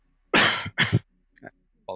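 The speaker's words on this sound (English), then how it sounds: "Apologies, forgot to mute while I coughed." Two sharp coughs in quick succession, close to the microphone, followed by a faint throat sound and the start of another cough, with silence in between.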